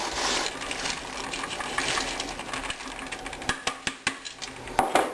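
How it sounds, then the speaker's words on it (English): Cheesecake crust crumbs are worked by hand in a pan, giving a steady gritty rustle that turns into a run of sharp clinks and taps against the pan toward the end. "Now, just kind of mix it all around."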